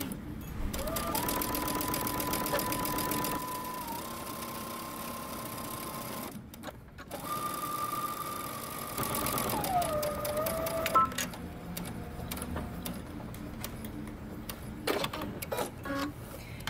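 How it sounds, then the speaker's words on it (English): A sewing machine backstitches a jumpsuit pocket seam, a close continuous motor hum with fast needle ticking that shifts pitch as it reverses, stops briefly, then carries on. "Now we're going to close our pocket. So I'm going to start here and backstitch."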